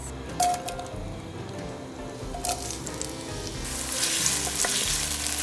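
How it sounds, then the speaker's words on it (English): Onion and red pepper sizzle steadily in olive oil, a close, continuous frying hiss with light stirring and a couple of faint clinks, the sizzle growing brighter and louder toward the end. "I am going to add in our onion and red pepper, and I'm gonna let that cook for about 5 to 7 minutes."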